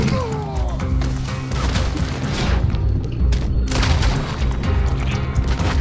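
Gunfire in Red Dead Redemption 2 during a game ambush: dense booming shots and crashing impacts come through a loud, busy battle mix that keeps going without a break.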